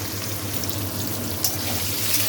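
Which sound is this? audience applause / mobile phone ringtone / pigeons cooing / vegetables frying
vegetables frying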